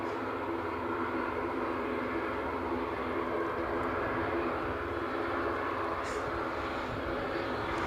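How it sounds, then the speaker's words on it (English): An ATR turboprop airliner moving at Edinburgh Airport, heard as a steady, broad engine drone with a low rumble that holds at an even level throughout, without distinct peaks or pauses. "I've got an ATR on the move here"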